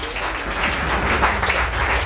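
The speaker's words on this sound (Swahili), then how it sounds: "Piga makofi kwa Bwana wa Yesu." Brief burst of hand clapping, a crowd applauding steadily for a couple of seconds at moderate volume.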